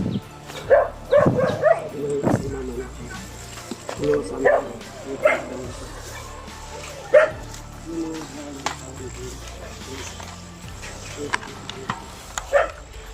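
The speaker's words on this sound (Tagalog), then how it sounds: "may aso dulo" A dog barks nearby in short, separate bursts, with sharp yips scattered through the clip while people talk over it.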